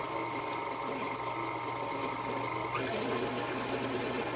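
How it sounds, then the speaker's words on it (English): KitchenAid stand mixer running a spiralizer attachment through zucchini, a steady continuous motor whir with a constant hum and a slight pitch shift near the end, close and alone. "And then when I turn on the KitchenAid"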